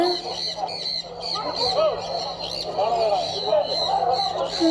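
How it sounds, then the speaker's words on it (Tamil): Many pet birds at a pet shop in Chennai chirp and squawk in a busy, overlapping chorus at close range, with a steady low hum underneath. "பார்த்தீங்கன்னா நிறைய பேர்ட்ஸ் வச்சுருக்காங்க"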